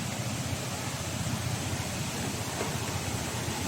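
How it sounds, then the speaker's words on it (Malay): Rain falls steadily near the summit of Gunung Jerai, a soft, even hiss of broadband noise with no distinct drops, faint and continuous throughout. "Hujan ya."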